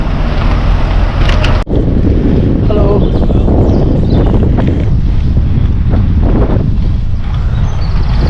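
Strong headwind buffets the microphone of a cyclist riding into it on a St. Patrick's Day morning ride, a loud, constant low roar of wind noise filling the whole stretch.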